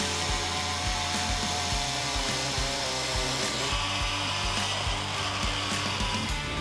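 A power tool grinds and cuts steadily through a mud flap bracket on a GMC Sierra 2500/3500 HD pickup, a loud, continuous whine with periodic rhythmic thumps, close and alone without talk.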